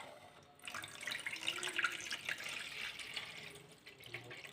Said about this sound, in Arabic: غاد نخويو عليهم الماء